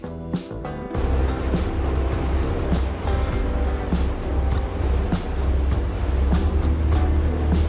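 A €2.50 sea bus carries passengers from the ferry port to Mykonos town in Greece, its engine droning low and steady beneath loud wash of water and wind throughout.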